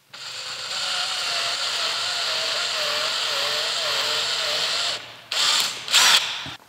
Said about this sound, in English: I drill a quarter inch hole